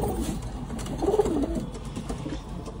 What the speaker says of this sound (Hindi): ये चंदन चीना कबूतर है, ललचीना ही बोलते इसको